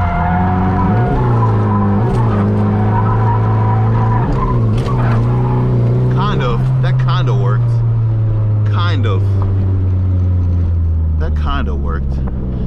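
Drift car's tires skid and squeal during a clutch kick, a loud droning engine running steadily beneath the screech, with talk in the cab over the noise.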